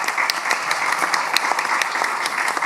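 An audience at the 23rd OIDP International Conference at Fábrica do Carvalho claps in sustained, dense applause, a loud, even wash of many hands throughout.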